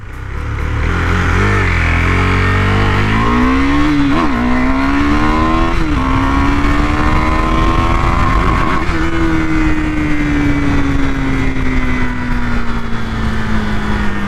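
KTM Duke 390 BS6 motorcycle accelerating hard from 0 to 100 km/h, loud and close, engine pitch climbing steeply through each gear with brief dips at the shifts, then a long steady high-revving drone with no voices.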